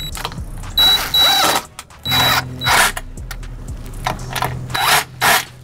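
Running board mounting hardware on a Ford F150 being tightened down, giving a series of short metallic scraping and ratcheting bursts at close range, with brief pauses between them.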